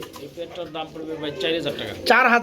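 Pigeons coo softly and repeatedly close by at a pigeon sale while a person talks over them, ending with a louder burst of bird noise.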